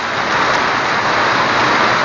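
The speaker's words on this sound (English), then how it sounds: "The rain's pouring down hard like a faucet." Heavy rain pours down hard outdoors in a dense, continuous hiss, loud and close, with no pause or voice over it.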